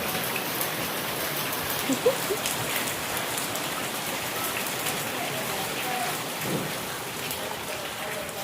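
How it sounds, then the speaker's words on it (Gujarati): Heavy rain pours down in a constant dense hiss, with a couple of faint distant rumbles beneath it. "ફાસ્ટ વરસાદ ચાલુ થઈ ગયો."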